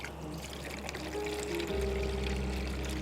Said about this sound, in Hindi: थोड़ा सा 2-3 ग्लास जितना पानी डाल दो